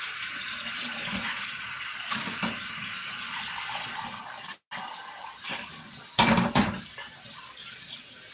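A kitchen tap runs water into a sink while flour is being rinsed off, a steady bright hiss that breaks off for a moment, then resumes with a few splashy changes.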